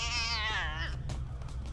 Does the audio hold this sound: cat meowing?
yes